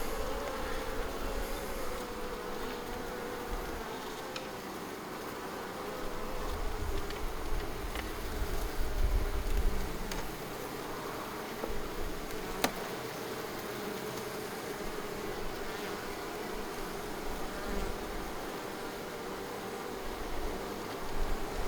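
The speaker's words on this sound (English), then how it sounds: "there's still quite a lot of bees, but you can see that they're a bit feisty now" Honeybees buzz steadily around an open hive being inspected, a dense, continuous drone of many wings that swells and fades slightly throughout, with no talking.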